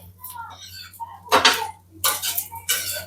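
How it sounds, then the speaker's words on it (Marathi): Coconut roasting in a pan as it is stirred, heard as a few close metallic scrapes and clinks of a spoon on the pan coming in short separate bursts, with quiet gaps between them. "सध्या मी भाजत आहे खोबरं"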